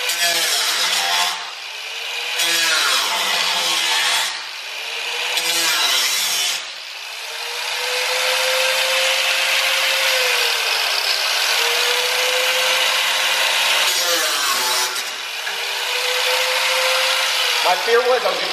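A power tool whines and grinds while cutting through a Toyota Supra MK4 quarter panel, its pitch dipping and recovering as the load changes, loud and continuous with brief pauses between passes.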